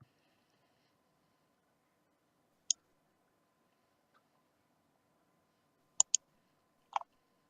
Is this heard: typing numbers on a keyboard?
yes